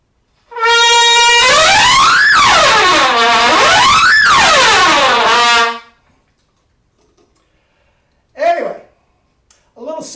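A brass instrument played with a 1SB mouthpiece sounds loud, close, rich sustained tones that bend and slide in pitch over about five seconds, followed by silence and a couple of short tones.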